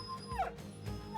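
In the video game Battle Brothers, a dog yelps once when it is hit. The yelp is short and fairly faint against the game's background sound, with no talking.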